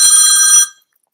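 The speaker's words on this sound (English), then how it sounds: "Sorry, I didn't switch my phone off." Electronic mobile phone ringtone trilling loudly for about half a second, then cutting off into silence.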